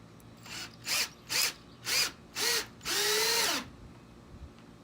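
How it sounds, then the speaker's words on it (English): A power drill whirs in four short bursts, then runs in one longer, steady burst before stopping, close and clear, as it drives screws into a wooden frame. "I go ahead and pre-drill and secure that to the top of the frame"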